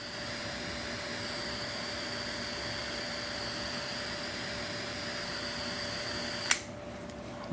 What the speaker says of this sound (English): just heat it up using your blowtorch